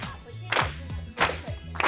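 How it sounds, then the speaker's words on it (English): Office sales staff at Indeed breaking into applause over a new client deal, several short bursts of clapping and cheering in an open workspace, with a few voices mixed in. "Everyone's applauding because someone just brought on a new client"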